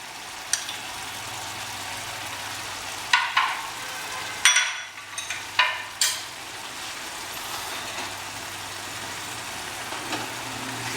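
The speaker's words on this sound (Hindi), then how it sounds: "इसको बढ़िया मिक्स कर लेते हैं।" Ginger and spices for a fish dish are stirred in a sizzling pan, a steady low frying hiss broken by several sharp scrapes and clinks of a spoon against the metal, close by and without talk.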